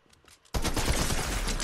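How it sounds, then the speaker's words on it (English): A rapid-fire drum gun in the video game Blimps Gun Game opens up after a quiet half second, pouring out a dense, loud stream of shots that continues steadily to the end. "Some rapid fire thing. Oh, I had a drum gun."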